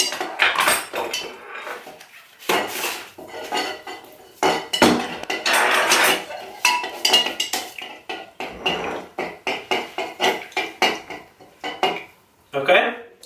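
A tablespoon stirs ingredients in a bowl to dissolve them while making homemade dog treats, giving quick irregular clinks and scrapes of metal against the bowl, close and fairly loud, with short pauses.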